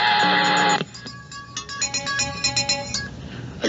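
A work phone rings with a loud, steady electronic ringtone that cuts off after under a second, followed by quieter mixed tonal sounds.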